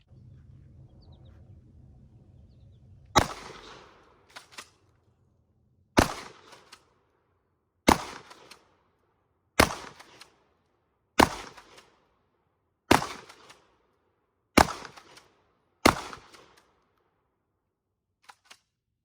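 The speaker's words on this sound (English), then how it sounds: "We'll just do 14 rounds, see what it does, using Rio number 4s." A KelTec KSG 12 gauge pump shotgun fires number 4 shells: eight loud, sharp blasts spaced about a second and a half apart, each followed by a brief pump clack, after a low rumbling lead-in.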